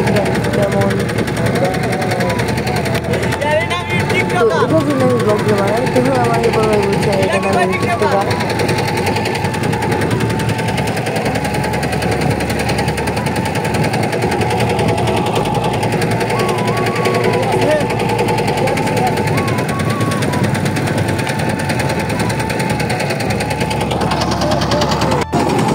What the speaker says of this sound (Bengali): তো দেখলাম একটা বড় ট্রলার, যে বালু ট্রলার নিয়ে বালু যায়